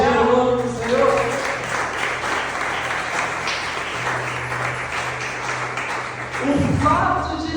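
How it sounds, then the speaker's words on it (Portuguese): A church congregation breaks into sustained applause, thick and steady in the middle, with a preacher's voice speaking just before and as it fades. "Você pode aplaudir o nome do Senhor?"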